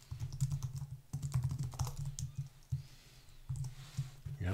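Fast typing on a computer keyboard, close and fairly quiet, with clustered key clicks in irregular bursts and short pauses, no talking over it.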